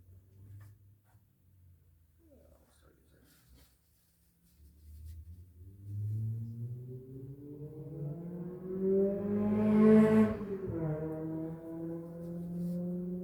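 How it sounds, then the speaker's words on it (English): A loud car drives by on a city street, its engine note rising and swelling as it approaches from a quiet start and peaks close by before easing off, with the rumble still strong at the end. "Whereas loud, stupid cars that drive by all the time"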